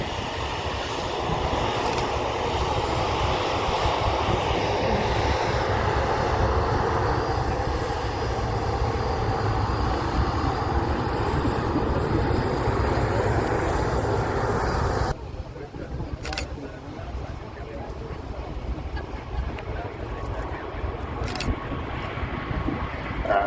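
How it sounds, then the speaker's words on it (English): Singapore Airlines Airbus A350-900 departing Manchester Airport, a steady roaring jet engine noise that holds loud for some fifteen seconds and then drops to a softer, more distant rumble. "Just departing, there's an Airbus A350-900. As you can see, belonging to Singapore Airlines, on its way to Singapore."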